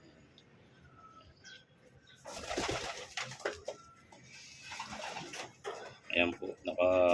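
Racing pigeons arriving from a 29 km training flight coo and rustle at close range, with bursts of fluttering, while someone talks over them.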